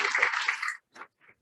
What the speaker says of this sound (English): give everyone a round of applause for Samantha Webb.